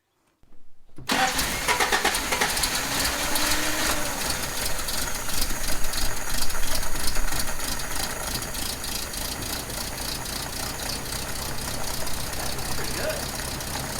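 A 1985 Toyota pickup's engine, sitting unused for seven years, catches after a second of silence. It then runs continuously at a rough, steady idle, loud and close, with a slight knocking texture throughout.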